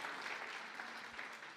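A church congregation applauding, a continuous even wash of many hands clapping, faint and somewhat distant, with no voices over it.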